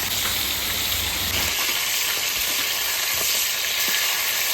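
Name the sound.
boiled potatoes with salt and turmeric frying in oil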